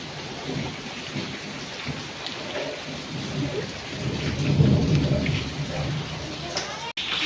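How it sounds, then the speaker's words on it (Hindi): Steady rain falls outdoors with low rolling thunder swelling in the middle, a continuous broadband wash that stays fairly loud throughout, with no voices. "फोटो ही देख सकते हैं, बारिश हो रही है।"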